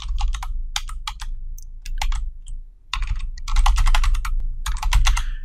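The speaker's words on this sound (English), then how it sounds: "There's not a copy paste here that I can find, so I'm going to have to just type it in." Rapid bursts of clicking keystrokes on a computer keyboard while typing a URL into a Git setup, uneven clusters separated by short pauses, close and clear with no talking.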